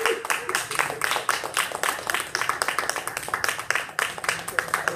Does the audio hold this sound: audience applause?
yes